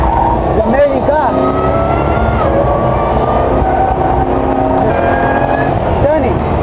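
A Jaguar C-X75 sports car from Spectre, driven by Felipe Massa in Mexico City, gives a loud, continuous engine roar up close, with pitch sweeping up and down as it accelerates and shifts.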